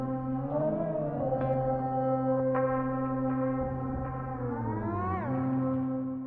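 Scoring guitars for an industrial metalcore track: sustained layered tones with gliding, bending pitches and a steady low drone beneath, a continuous moderately loud texture with no voices.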